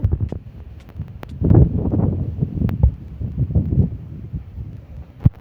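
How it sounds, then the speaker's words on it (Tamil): Strong wind buffets the microphone in loud, rumbling gusts that rise and fall, with rustling throughout. "ரொம்ப காற்றடிக்குது"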